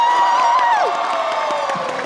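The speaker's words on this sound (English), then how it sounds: "Round of applause for Hulk." Audience at a Wizard World Philadelphia 2016 convention panel cheers and whoops in a large hall, a sustained roar of crowd noise with a high whistle that drops away, slowly fading over two seconds.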